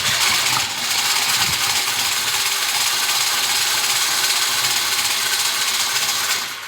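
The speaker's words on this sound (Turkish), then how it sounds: "Üç dakika boyunca çırpacağız arkadaşlar." An electric mixer whips a cream dessert mixture made with banana, running as a continuous close whirring buzz at a steady speed that starts and stops abruptly, with no talking.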